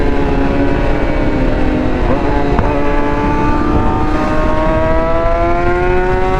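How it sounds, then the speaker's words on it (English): Supercharged Kawasaki Z H2 motorcycle engine revving nearby, a loud, sustained rising engine whine with harmonic tones climbing steadily on city streets. "That ZH2 sounds sick, man."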